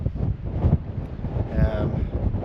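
Gusty wind buffets the microphone in low, rumbling bursts that rise and fall throughout, loud and close with no other clear sounds, on a Scottish mountain above Loch Treig in February.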